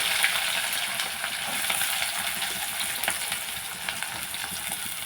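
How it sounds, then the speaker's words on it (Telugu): Cumin seeds and chillies frying in hot oil in a pan for a raw banana curry, a dense, steady sizzle with small pops and crackles close up, no voices. "కొంచెం జీలకర్ర వేస్తున్నాను మిర్చి"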